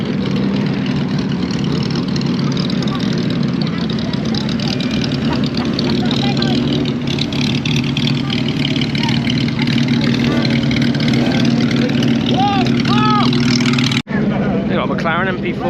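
Loud cars, including supercars such as a McLaren and a Carrera GT, at the Goodwood track during a breakfast meet, producing a constant engine rumble and drone with rising revs, with people talking nearby throughout.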